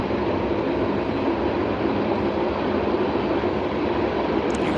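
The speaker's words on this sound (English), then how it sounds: "Train sounds are awesome." Train passing by near a backyard, a loud, steady broadband rumble and rush that holds evenly throughout, close by.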